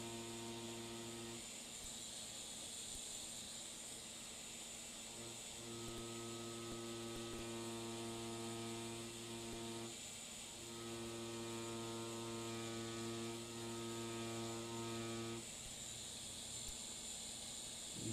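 A tattoo machine running at 7 volts gives a steady electric buzz that cuts out briefly a few times and resumes, heard close and alone.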